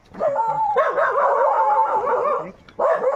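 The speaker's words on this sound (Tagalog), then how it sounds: "Ayan na, may sumalubong na sa ating aso." A dog gives a sustained, whining bark-like vocalization, loud and close, pausing briefly before starting again.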